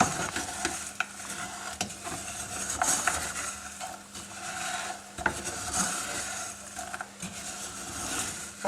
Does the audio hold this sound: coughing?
no